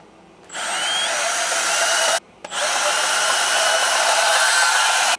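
Power tool cutting electrical conduit for a washer and dryer circuit, a loud steady high whine running about five seconds with one brief stop and restart, no talking.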